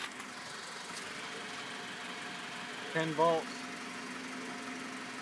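A push mower engine running on HHO drones faintly and steadily in the background, while a voice speaks briefly partway through.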